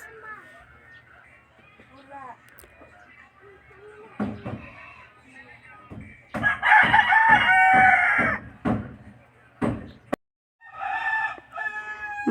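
Several bangkas roosters, black-and-orange feathered, crow in bursts, loud and close, with clucking and other farmyard birds in between and a brief pause near the end.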